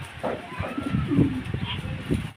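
Pigeons cooing at a breeding farm, soft low throaty coos in a short burst, close by, with some other faint noise around.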